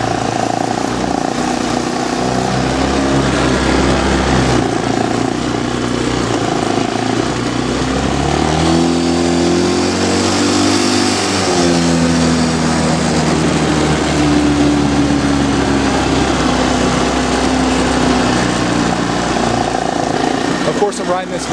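A four-wheeler ATV engine runs continuously while being ridden outdoors, droning loud and close with a rise and fall in pitch midway as the throttle changes.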